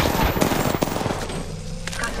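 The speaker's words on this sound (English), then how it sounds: "Getting shot at." Rapid automatic gunfire in the Apex Legends video game, loud and dense bursts of machine-gun shots crackling close by, with a short lull and scattered shots toward the end.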